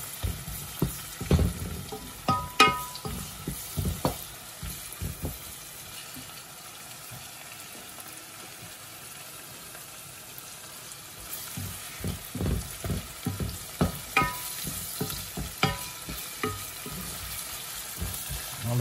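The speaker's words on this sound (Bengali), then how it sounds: "আমার রসুন অ্যান্ড পেঁয়াজ আমি মিক্স করি" Garlic and onion frying in a pan as they are stirred, with intermittent scraping clicks and a soft sizzle that thins out in the middle before clattering stirs return, close by.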